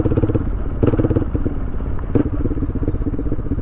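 A TVS Raider 125 motorcycle fitted with an aftermarket exhaust runs rough and misfires as it nears stalling, its loud, close engine sputtering unevenly with irregular bursts and uneven pulses throughout.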